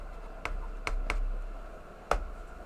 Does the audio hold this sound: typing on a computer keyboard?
yes